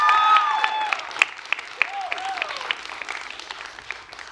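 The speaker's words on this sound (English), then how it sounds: "you can all clap" A live audience at a school talk claps, a scattering of sharp hand claps that come and go over a fading tonal sound, moderately loud and uneven in rhythm.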